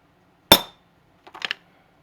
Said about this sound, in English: now I should be able to get one good whack on this without moving it